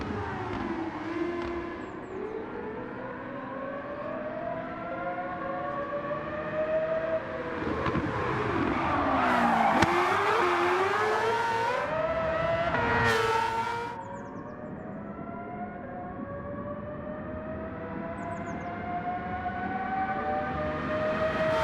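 A high-revving race car engine in Gran Turismo 7 screams past, pitch rising and falling with sweeping gear changes, loud and continuous with no voices.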